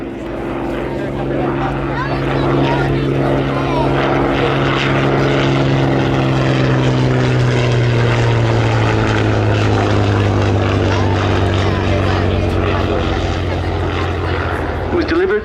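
A Hawker Fury biplane flies at the RAF 100 Cosford Air Show in 2018, its piston engine and propeller making a loud, sustained drone that swells and shifts in pitch as it passes, with a commentator talking over it.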